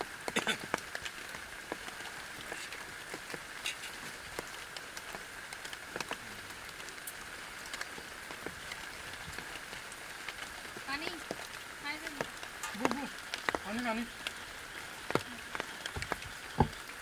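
Steady rain patters and hisses throughout, with a voice speaking intermittently over it.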